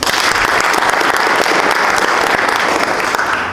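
A crowd at the closing day of a youth economic empowerment project event claps loudly and steadily in a brief, dense round of applause.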